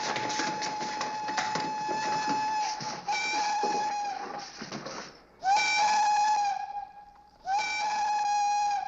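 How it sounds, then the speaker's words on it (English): A mine steam whistle blows long sustained shrieking tones, loud and steady, breaking briefly between blasts before sounding again, with a faint background hiss. "When the whistle continued, I knew it was an emergency."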